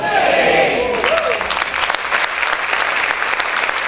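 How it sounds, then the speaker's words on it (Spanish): A church congregation bursts into loud, sustained applause, dense clapping from many hands filling the room, with a voice briefly audible at the start. "Ese aplauso es para el Señor"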